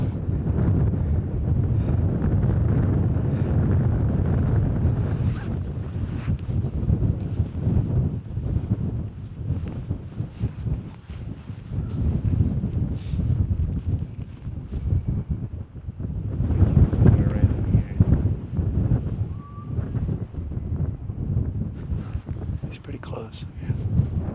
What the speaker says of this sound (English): It's incredibly windy, incredibly cold.